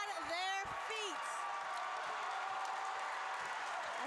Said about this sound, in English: And now the crowd is on their feet